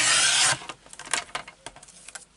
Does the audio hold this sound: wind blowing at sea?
no